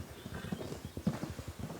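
Horses clip-clop in a rapid, irregular patter of hoofbeats at moderate distance, with a short neigh cutting in partway through and no talking.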